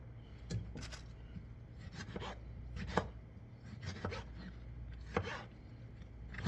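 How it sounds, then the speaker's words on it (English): A knife chops vegetables on a board for a spicy salsa: a run of sharp, irregular thuds close by at a steady working pace, with a quiet background and no talking. "Just easily chop them up, take out the inside, take it to quarter"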